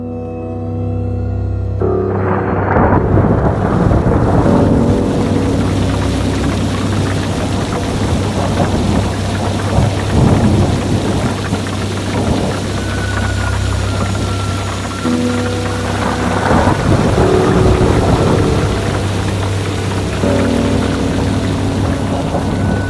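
Heavy rain pours in a steady, dense roar throughout during a backpacking trip, loud and close, with low rumbling swells underneath and no voices.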